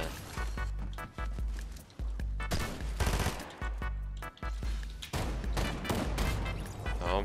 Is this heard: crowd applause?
no